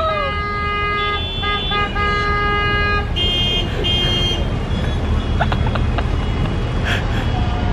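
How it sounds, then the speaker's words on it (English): Car horns honk repeatedly in busy street traffic in Peru, overlapping tones sounding in bursts over a steady road rumble, with people talking now and then. "I've never seen so much honking in my life."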